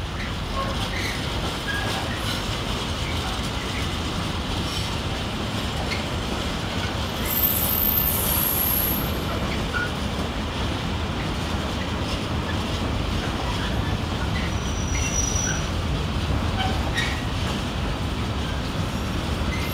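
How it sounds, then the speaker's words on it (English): A Pendolino express train rushing past close by, a loud continuous rumble and rail roar throughout with brief high wheel squeals. "we may get bowled over by a Pendolino"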